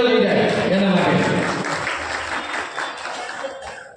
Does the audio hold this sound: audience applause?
yes